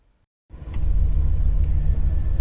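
A 1966 Chevy Caprice engine starts from silence into a steady, close, loud idle with a low rumbling hum that holds evenly throughout.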